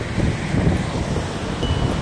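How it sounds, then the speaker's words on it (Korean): Strong wind buffets against a rough sea coast during a winter storm with snow, large waves crashing and surging as a continuous loud roar close by, with gusty noise hitting the microphone. "우와, 파도가 겁나 높아."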